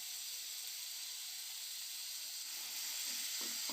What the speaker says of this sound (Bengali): ওই তেলে জিরে ফোড়নি, তারপরে মশলাটা ভালো করে কষিয়ে নেব